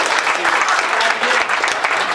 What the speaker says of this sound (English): Give him a full round of applause for that.